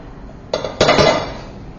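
Two tablespoons of butter dropped into a pan on a stovetop, a brief clunk followed by a louder clatter and a short burst of hissing sizzle, close and unaccompanied by speech.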